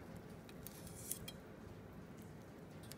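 A red snapper is cut open for grilling: faint, quiet cutting sounds with a few light snips and scrapes against a steady low background.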